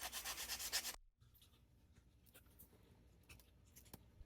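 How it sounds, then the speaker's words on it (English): Sandpaper up to 220 grit rubbing over a small frog carved from scrap wood, with a loud burst of steady close scratching at first, then a pause and fainter intermittent rubbing strokes. "Then I used sandpaper up to 220 grit to smooth it all out."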